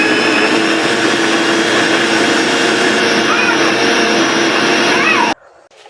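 A Vision heavy-duty 850-watt blender runs at a loud, steady motor roar with a high whine throughout, then cuts off abruptly near the end, leaving near silence.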